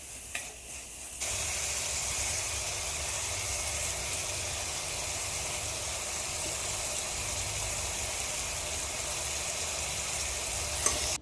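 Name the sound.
onions frying in oil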